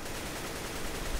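Gunfire from a tactical first-person shooter game, a dense burst of shots that run together into a steady, loud wash with no clear gaps between them. Nobody is talking.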